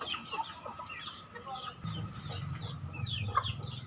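Chickens cluck softly in scattered bursts at a moderate distance, with a low background rumble and some murmuring voices.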